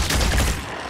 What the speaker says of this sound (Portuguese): Na real, vou atirar nele.